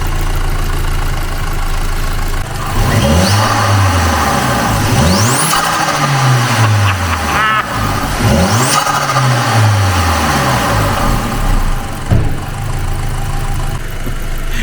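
A VAG FSI car engine idles, then revs hard three times, each rev climbing to a loud roar and falling back, followed by a rough idle.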